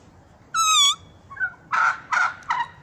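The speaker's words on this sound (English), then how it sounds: "I see three turkeys." Wild turkeys calling in a front yard: one rising, warbling call followed by a short yelp and a run of three loud, close gobbling bursts.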